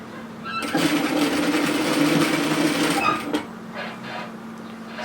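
A sewing machine runs in one steady burst of about two and a half seconds, stitching a waterfall collar onto a cardigan, then stops and is followed by a few faint clicks and handling noises.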